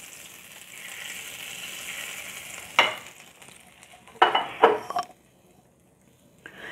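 Red chilli fried in desi ghee as a tempering poured over a cucumber and grape sabzi, a soft sizzle followed by several sharp bursts of crackling and clinking, then quiet.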